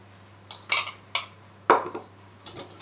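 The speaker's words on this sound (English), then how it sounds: "whisk it nicely with the egg" A whisk or fork strikes the side of a bowl while eggs are beaten for chocolate chip muffin batter, giving a few sharp, distinct clinks and taps spaced irregularly, close and clear with no talk.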